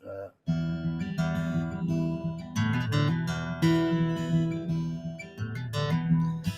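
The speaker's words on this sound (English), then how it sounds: "That's the theme song of Making Sense of the Madness." Opening of the theme song of Making Sense of the Madness: a full band with sustained harmonic chords and vocal-like melody, starting after a brief pause and playing loud and steady throughout.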